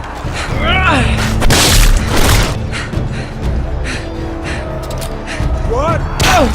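Gunfire and booms go off in the Game of Thrones Telltale game: several loud, sharp blasts with impacts and shouting in between, over a busy battle din.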